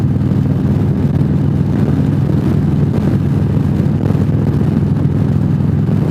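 Riding a Harley-Davidson Freewheeler trike: a steady, deep engine rumble mixed with road and wind noise, held at an even level throughout with no talking.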